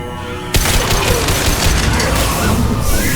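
Loud, dense bursts of shotgun fire and explosive booms in the video game Mass Effect 2, a sustained barrage of combat noise erupting suddenly after a brief quieter moment.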